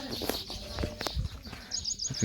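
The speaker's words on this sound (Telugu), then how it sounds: "పిట్టెల సౌండ్ అయితే చాలా బాగుంది" Small birds chirp and tweet intermittently in the background, with occasional sharper calls and faint rustling outdoors.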